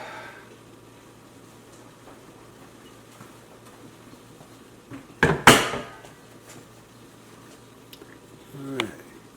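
A deep pan bought from Costco is handled in a home kitchen, giving a loud metallic clatter and scrape midway and a softer knock near the end, with quiet room sound around it.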